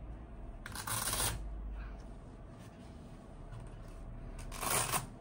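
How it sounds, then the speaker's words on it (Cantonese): Two velcro strips on a bianstone heating pod torn open, giving two short, rasping rips, one near the start and one near the end, with quiet room noise between them. "搣開呢2條魔術帶"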